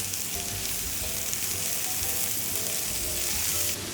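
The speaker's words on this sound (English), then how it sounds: "the tomatoes and the chopped methi, and you cook these two out" Tomatoes and chopped methi leaves frying in a pan for Parsi dhansak, a steady broadband sizzle that runs unbroken at an even level with no talk.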